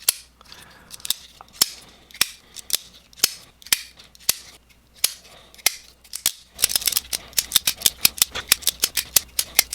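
Sharp metallic clicks and snaps from a Demko AD20.5 folding knife blade with a shark lock, repeated in an uneven rhythm, then quickening into a fast flurry of close, crisp clicks.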